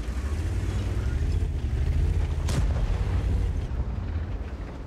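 A tank cannon in the World of Tanks video game fires once as a sharp, loud blast over a constant low engine and battlefield rumble.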